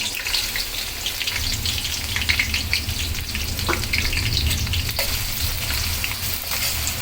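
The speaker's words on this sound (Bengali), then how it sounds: "এই পেঁয়াজটা একটু ভেজে হবে ভালো মতন" About a cup of chopped onion fries with chili in hot oil, a dense, steady close-up sizzle with crackling and occasional stirring clinks throughout.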